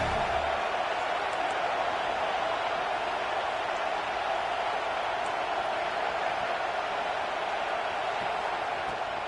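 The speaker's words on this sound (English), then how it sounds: "The Buckeye crowd alive on 3rd down." A dense, steady roar of an Ohio State Buckeyes stadium crowd cheering on third down in an NCAA college football video game, holding at an even level throughout with no breaks.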